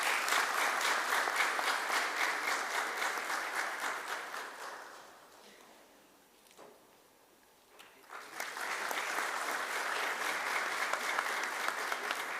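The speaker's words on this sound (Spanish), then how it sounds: "Vamos a invitar con fuertes aplausos" An audience applauds a baritone singer at a student recital in Paraguay, with loud sustained clapping that dips briefly into near silence before swelling back to full strength.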